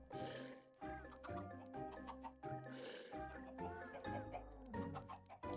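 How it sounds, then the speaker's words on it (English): Chickens cluck repeatedly in the Minecraft video game, a steady run of overlapping poultry calls at even loudness with game sounds beneath, no talking. "Like some more birds?"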